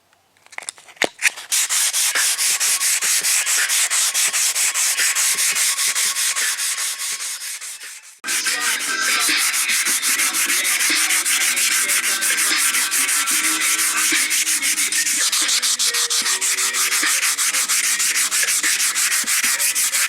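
Sandpaper on a block scrubs steadily over a car wheel rim during curb rash repair, a loud close rasping that pauses briefly midway, then resumes with a continuous back-and-forth rhythm.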